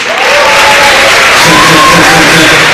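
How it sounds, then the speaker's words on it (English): Crowd applause and cheering for the performer Caboose at a live show in Willmar, a steady loud wash of clapping with whoops rising over it, close and sustained throughout. "let's give a good round of applause for Caboose"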